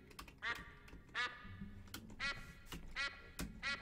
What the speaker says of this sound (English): It quacks!